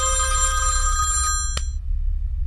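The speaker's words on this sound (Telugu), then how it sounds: "ఇది ఒక రింగ్ అవుతుంది." An old-style telephone bell rings once in a bright, buzzing burst lasting just over a second. A faint background hum follows it.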